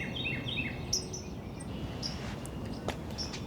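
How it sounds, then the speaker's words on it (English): A Carolina wren sings from a perch during spring birding, giving short bright chirpy phrases in quick repeated bursts at moderate distance over a steady hiss of insects and background noise. "let's try to get a look at this Carolina wren singing"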